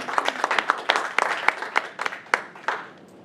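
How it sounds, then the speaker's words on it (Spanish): A church congregation claps in praise at a Spanish-language service, the sparse, uneven claps coming from a small group at moderate distance and thinning out toward the end. "Denles aplauso al Señor."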